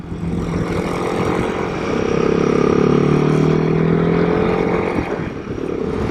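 A Royal Enfield Himalayan 452 motorcycle rides along a twisty back road in Virginia, its engine droning steadily and swelling briefly as it accelerates, with wind rush throughout and no talk.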